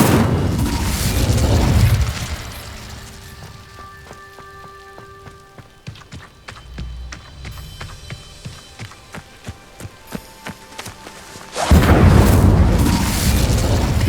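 A fiery Incendio spell going off in Hogwarts Legacy, with heavy roaring blasts at the start and again near the end, and scattered crackling and tonal chimes in the quieter middle stretch.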